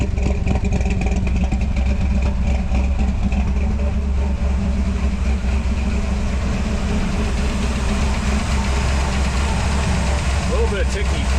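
1961 Ford F100 pickup truck engine idling steadily and loudly up close, a low rumble with a light rhythmic ticking clatter running through it, uninterrupted for the whole stretch.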